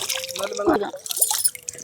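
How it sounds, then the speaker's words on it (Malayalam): Water from a small natural spring trickles and drips steadily nearby, with a person speaking briefly over the gentle flow. "ആ ഉറവ കണ്ടോ, ചെറിയൊരു നീരുറവയാണേ"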